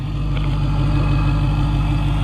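2015 Dodge Challenger SRT Hellcat with a manual gearbox idling steadily and loud, a smooth low drone with a faint fast injector ticking on top and no voices.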